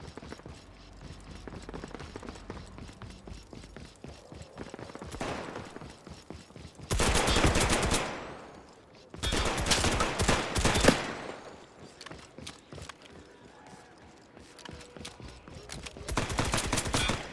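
Gunfire in the shooter game Off The Grid comes as bursts of rapid automatic fire, with loud dense volleys separated by quieter stretches of mechanical clicking and softer shots.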